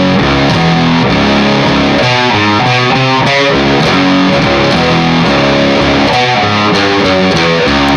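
Distorted electric guitar plays two bars of a riff, a dense run of chords and notes, loud and steady throughout with no talking.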